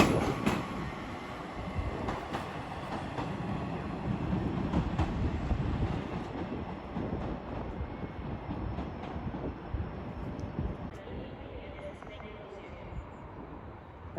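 A Class 67 diesel locomotive passes through Crewe station on the West Coast Main Line, a steady broad rumble of engine and rolling wheels held for about fourteen seconds and slowly easing off, with faint voices under it.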